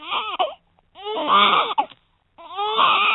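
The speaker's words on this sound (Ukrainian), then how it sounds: "Вона тримала немовля, немовля заплакала голосніше." A baby wails in three loud, strained bursts separated by short silent gasps, close and alone.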